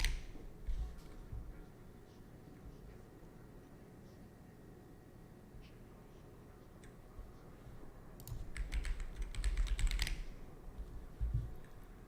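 Typing on a computer keyboard in brief bursts of soft key clicks over a low room hum, with a denser, louder flurry of keystrokes near the end.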